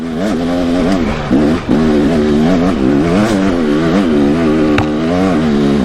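A motorcycle engine held at high revs in second gear with the throttle kept open while climbing a hill, loud and close, a sustained harmonic drone that wavers with load and dips briefly once before pulling on.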